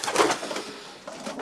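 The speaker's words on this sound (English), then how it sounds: "This is one of my Belgian pigeons I purchased from Belgium last year" A Belgian racing pigeon cooing close by in a loft, a soft throaty coo in short pulses, no talking.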